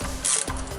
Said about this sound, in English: the ratchet with extension is the most convenient way to go